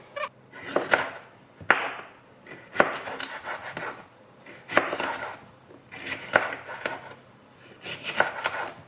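Close kitchen knife chopping vegetables, likely aubergines with some skin left on, on a board, in quick bursts of sharp cuts that pause every second or so, with no talking.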